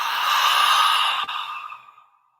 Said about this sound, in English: Gentle exhale.